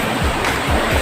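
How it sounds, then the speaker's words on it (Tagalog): Water rushing loudly over rocks in a river near a waterfall at 13 Falls, a steady broadband roar with surging swells, close and continuous with no talk. "kung naririnig nyo naman yung ragasan"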